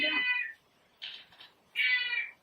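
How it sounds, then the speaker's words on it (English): A cat meows in a quiet indoor room in the evening: one meow, then a short softer call, then another drawn-out meow. The calls are clear and fairly close, with no talk. "The cat's been there for a while."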